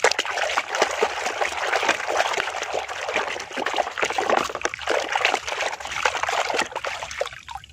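Water splashing and trickling while Ultraman toys are washed, a steady busy wash of dribbling and splattering that runs throughout at close range.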